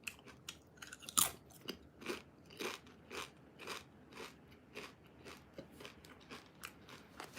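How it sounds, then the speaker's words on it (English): Crunchy chewing on salty, spicy salami-flavoured snack slices from a 7-Eleven bento in Tokyo: close, crisp bites repeating in a steady rhythm, with one louder crunch early on. "Chew it one time."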